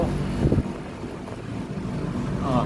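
An LG condo air conditioner with weak cooling runs its compressor loudly while the fan spins slowly, giving a steady, heavy mechanical hum close up without talk.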